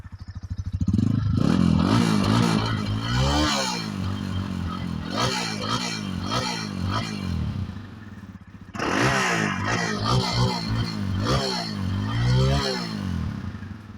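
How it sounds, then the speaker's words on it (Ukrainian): A Loncin LX250GY motorcycle engine revs and idles with a thumping, drumming exhaust, loud and close, with a brief dip before it picks up again. "Звук, до речі, в цьому мотоциклі мені дуже-дуже подобається із-за такої барабанистої вихлопної."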